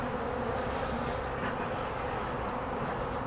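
Honeybees hum in a dense, steady buzz close by while a plastic poly hive is opened for autumn feeding, the swarm noise continuous and fairly loud with no voices.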